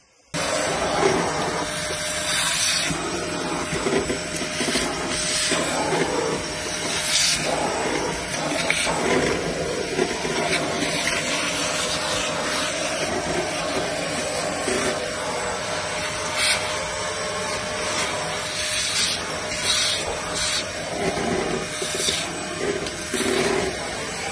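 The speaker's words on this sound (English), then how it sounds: "I've hoovered that off now" A vacuum cleaner hoovering out the combustion chamber of a Certikin COH110 oil-fired pool boiler, a loud steady roaring whine running continuously with slight changes in pitch as the nozzle moves, close and without speech.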